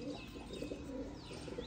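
A Punjab pigeon kept for sale gives a short burst of throaty cooing, with a few gurgling notes repeated close by. No one speaks over it.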